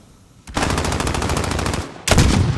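Loud, rapid automatic gunfire from a Call of Duty league match, one sustained burst of close shots followed by a second burst starting abruptly, with no talk.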